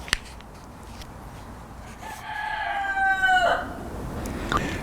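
Chickens in a walled garden give one drawn-out, crow-like call midway through, moderately faint, after a sharp click at the start and over quiet outdoor background.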